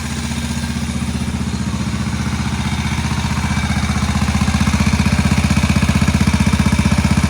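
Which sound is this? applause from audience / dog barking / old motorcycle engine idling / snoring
old motorcycle engine idling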